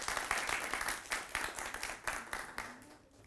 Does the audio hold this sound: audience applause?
yes